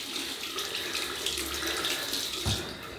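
Tap water runs in a steady splashing stream into a sink while a shaving brush is wetted, close and continuous, with a brief knock near the end and no talking.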